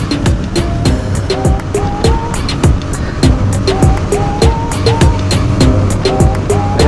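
Royal Enfield Interceptor motorcycle with a Mash 400 sidecar accelerating on a forest road, its engine revving loudly through repeated rising gear pulls with wind rush, close and continuous, with voices talking over it.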